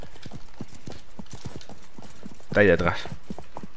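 Horse hooves clip-clop steadily in Wild West Online, a close, even rhythm of hoof strikes running beneath someone speaking Spanish, with a brief louder burst partway through.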